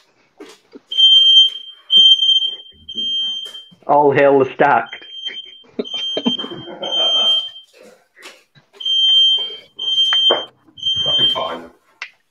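An indoor smoke alarm sounds repeated high piercing beeps in regular bursts, with someone talking between and over them.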